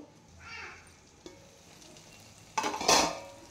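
Tomatoes frying soft in a pan, with a quiet sizzle broken by a brief scrape and then a louder burst of spattering and stirring near the end, no voices.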